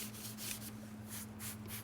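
320-grit sandpaper wet-sands a car body panel, feathering an edge into new paint; quiet rhythmic back-and-forth rubbing strokes repeat at a steady pace over a low hum.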